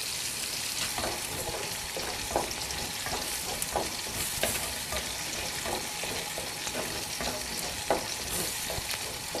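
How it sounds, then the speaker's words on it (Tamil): Ivy gourd (kovakkai) pieces frying in hot oil sizzle steadily and loudly up close, with repeated scraping stirs of a utensil against the pan throughout and no talking. "இது இன்னும் கொஞ்சம் எண்ணெய் ஊற்றி ஃப்ரை பண்ணிக்கலாங்க."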